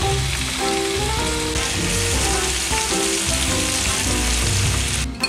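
Onion rings frying in hot oil give a loud, steady sizzle that crackles and pops continuously from start to finish, close by with no talking.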